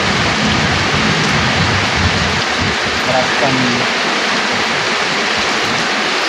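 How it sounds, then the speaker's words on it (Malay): Heavy night rain during a windy storm pours down as a steady, dense roar of broadband noise, loud and continuous throughout, with a voice speaking briefly over it. "suasana hujan malam yang lembab"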